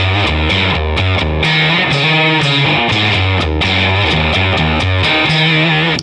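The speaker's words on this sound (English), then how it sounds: "Kick in the Octavia." Electric guitar run through an Octavia octave effect on a Digitech RP1000, a loud, dense, fuzzy tone with a melodic line over repeated low notes, continuous and close with no voices.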